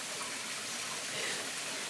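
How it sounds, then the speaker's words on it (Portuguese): Cachoeira do Urubu waterfall gives a steady, close rush of falling water that fills the whole stretch as one continuous roar, with no voices over it. "essa aqui aparentemente é a Cachoeira do Urubu"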